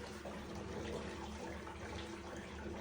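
Water drains from a bathtub in a tiny house, a continuous close gurgling trickle and rush with a faint tonal ring, steady throughout with no talking.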